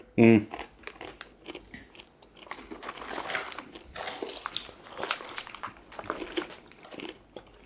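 Someone bites into and chews crispy, non-fried Bucknbird salami crisps, a close sharp crunch followed by irregular softer crackling chews, faint and close to the mouth.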